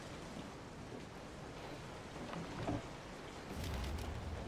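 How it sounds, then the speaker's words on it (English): Steady rain in the video game Resident Evil 7 pours down, a soft continuous wash of noise that swells slightly toward the end, with no voices. "Oh, and it's raining now, too."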